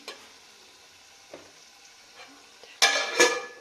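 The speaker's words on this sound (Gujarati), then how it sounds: "બનાવ્યું છે કોબીનું શાક. હજુ ચડ્યું નહીં." Cabbage curry cooking in a pan, a faint sizzle with scattered soft clinks, then two louder bursts of scraping and stirring near the end, close by.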